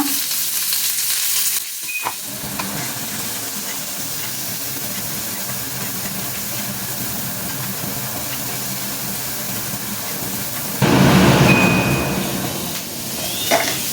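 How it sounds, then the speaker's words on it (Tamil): Chopped curry leaves and chili fry in a pan with a steady, close sizzling hiss throughout, flaring louder near the end as more goes in, with brief clinks of a utensil. "கருவேப்பிலையும் கொஞ்சம் சின்ன சின்னதாக கட் பண்ணி போட்டுக்கலாம் மிளகா"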